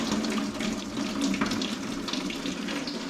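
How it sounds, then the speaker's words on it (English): Coolant drains from a BMW E46 M3 during a thermostat replacement, pouring out after the cap is opened in a steady, fairly quiet rushing trickle of liquid. "by opening this, you release pressure, coolant comes out"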